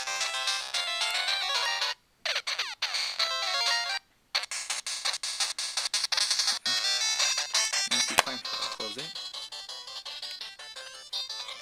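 Game Boy Advance SP built-in speaker playing bright chiptune video game music and effects, loud and continuous with two brief silent gaps, no talking.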